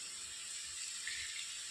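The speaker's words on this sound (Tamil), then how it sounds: "இனி இதையே நம்ம தண்ணியை வடித்து வச்சிடலாம் தாளிக்கிறதுக்கு" Cooking water poured off boiled cowpeas makes a faint, steady trickling splash, soft and continuous throughout the short moment.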